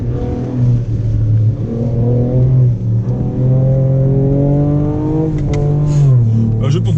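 Ford Ranger Raptor with a 400 hp engine climbing a sandy uphill track in the Namibian desert, its engine loud and close, revving in rising sweeps through the gears with a shift near the end.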